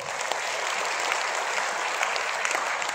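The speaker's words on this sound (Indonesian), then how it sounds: "Boleh tepuk tangannya." An audience at a holistic-health talk claps together, a dense and steady burst of applause filling the room for a few seconds without a break.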